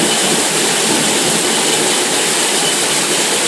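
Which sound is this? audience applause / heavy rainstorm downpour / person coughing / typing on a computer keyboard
heavy rainstorm downpour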